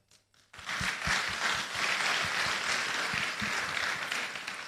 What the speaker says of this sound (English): If you are clapping for the governor, I think you can do much better.